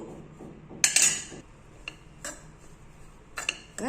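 Grated coconut dry-roasting in a pan over low heat, with a spoon or spatula scraping and clinking against the metal in a few sharp, irregular strokes amid quiet pauses.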